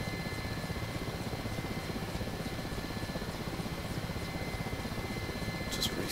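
The rotor and engine of an Mi-8 helicopter in the DCS World flight simulator drone steadily with a low rhythmic chop, moderately loud and unbroken, with a brief light click near the end.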